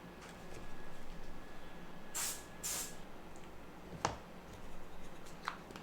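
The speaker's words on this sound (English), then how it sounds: "I take this stoner, this mold release, and I will actually spray this really good" Two short hissing sprays from an aerosol can of mold release, close by, followed by a tap and a faint click in a quiet room.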